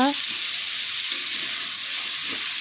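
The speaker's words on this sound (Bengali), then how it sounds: "এখন কম স্টিম দিয়ে কফিটাকে ভাজা করে নেওয়া হবে।" Cauliflower and potato pieces fry steadily in a pan with turmeric, a close, even sizzle with soft stirring scrapes throughout.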